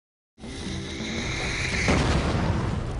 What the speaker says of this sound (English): That explosion was so powerful the set wobbled.